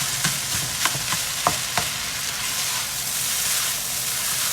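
Rice frying and sizzling in a hot pan for American-style Chinese fried rice, a steady hiss with a few sharp scraping clicks as it is stirred, close up.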